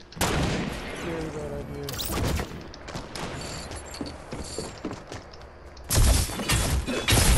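Fortnite gunfire crackles in rapid bursts through much of the stretch, with a loud volley near the start and another toward the end, while someone talks excitedly over the shots.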